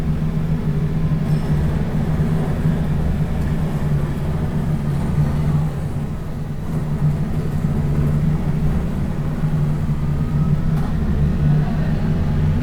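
A bus cruising in the OMSI 2 Bus Simulator game, its engine giving a continuous low rumble with faint rattles and road noise, steady and close with a brief dip midway, no voices.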